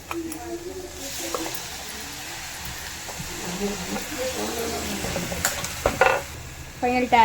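Onions being stir fried with salt and tomato in a pan sizzle steadily with wet squishing stir sounds and scraping, while a person talks over the cooking and clatter rises toward the end.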